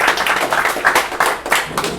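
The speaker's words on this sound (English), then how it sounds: "A round of applause for Jeffrey." A small audience at a PHP programming meetup gives uneven, loosely rhythmic clapping for a presenter. The individual claps are fairly distinct and close, suggesting a modest crowd.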